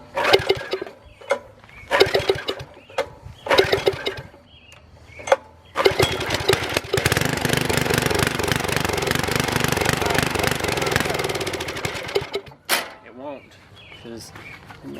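A small tiller engine, earlier locked up, cranks in several short pulls, then catches and runs steadily at a near, loud, buzzing idle before sputtering and dropping off, with a few clatters afterward.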